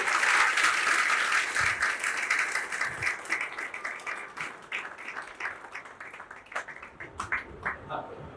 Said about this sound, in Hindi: माइक दे रहा हूं सबसे पहले यक्ष चौधरी जी को और इनको जोरदार तालियों से स्वागत।